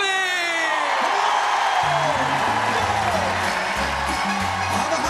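A large crowd at an open-air music festival cheers and applauds for a singer, with loud whooping and yelling over dense clapping while upbeat music with a pounding bass plays throughout.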